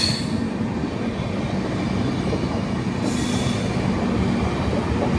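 Mysuru–Chennai Shatabdi Express train rolling past, a loud continuous rumble of wheels on rails with a steady roar and faint wheel squeal throughout.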